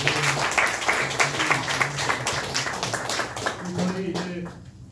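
An audience claps steadily, a dense patter of applause with voices talking over it.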